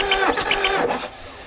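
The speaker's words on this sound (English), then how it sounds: "that way we can turn the engine over" Bobcat diesel engine, hard to start when cold, cranking over on the starter via a bump switch: a quick rhythmic run of starter whirs and mechanical clatter, loud and close, then stopping abruptly.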